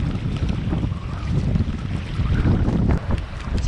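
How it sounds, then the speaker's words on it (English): Strong gusts buffet the microphone on a river near Kingston, Tasmania, as rain begins during kayaking, a loud continuous rumbling roar of wind with no voices. "It's just starting to rain, very strong wind."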